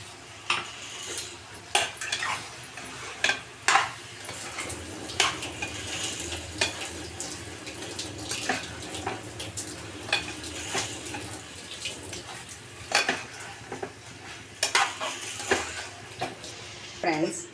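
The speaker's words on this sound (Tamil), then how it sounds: "நாலாப்பில் போட்டு ஒரு 2 நிமிஷம் வதக்கி இறக்கிக்கலாம்." Chicken thokku sautéing in a pan with ground pepper and cumin: continuous sizzle under frequent clinks and scrapes of a spatula against metal, nearby, with some talk now and then.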